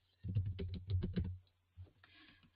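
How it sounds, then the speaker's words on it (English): A business name typed on a computer keyboard: a quick burst of about eight close, crisp key clicks, a pause, then a few softer taps, quiet and alone. "all I'm going to do here is just type in the name of the business"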